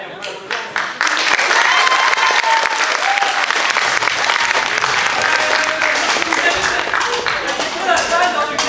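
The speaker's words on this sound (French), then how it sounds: "On peut l'applaudir." At a café-théâtre evening, a few scattered claps quickly swell into loud, sustained applause from a packed room, with cheers and voices rising over the dense clapping.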